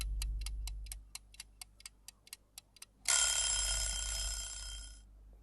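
A quiz countdown timer ticks in about a dozen crisp, evenly spaced clicks, then gives way to a loud bright ringing buzzer that holds for two seconds before cutting off, with no voices.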